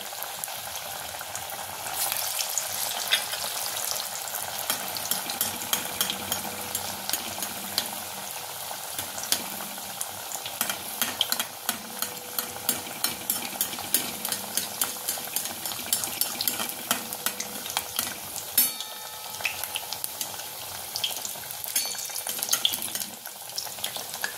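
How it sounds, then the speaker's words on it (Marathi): Thick chole tikki cutlets shallow-frying in a pan on a low flame give a steady, close sizzle with fine crackling spits throughout, no voices. "टिक्की थोड्याशा जाडच असतात, आपल्याला बारीक गॅसवर ह्या फ्राय करून घ्यायच्यात।"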